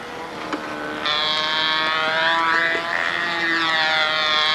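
A model airplane pipe engine fired up with naphtha lighter fluid catches and winds up into a loud, high whining buzz whose pitch sweeps up and down, close by and without talk.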